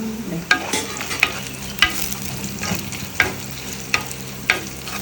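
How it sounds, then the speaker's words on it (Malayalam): Dried red chillies fry and sizzle in hot oil in a clay pot, a steady crackling hiss broken by regular sharp clinks of a stirring spoon against the pot, with no talking. "ഇനിയിപ്പോൾ ഏതാണ്ട് മൂപ്പായി വറ്റൽമുളക് ഇട്ട് കൊടുക്കാം കേട്ടോ"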